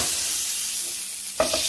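Deer meat browning in a hot pot for a roast or stew, a steady broad sizzle with a brief scrape or stir near the end, close and unbroken by talk.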